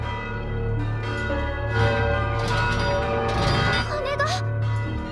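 An alarm bell rings out over a town in a steady, loud clanging of layered tones, mixed with voices and other commotion.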